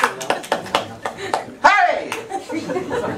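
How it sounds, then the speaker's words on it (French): Audience applause at a French press conference in Paris for a Disney Planes film, several hand claps near and clear with a surge of cheering and crowd voices mid-clip, chatter continuing underneath. "Oh, applaudissements."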